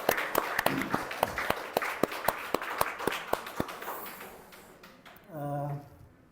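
Congregation applause during a Sunday church service, a run of distinct, fairly sparse hand claps for about four seconds, then voices and speech.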